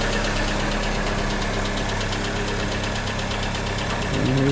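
A Mini Cooper engine with drivability issues runs steadily on a test drive, a loud continuous mid-pitched hum with a faint rapid knocking pulse, rising slightly in revs at the end.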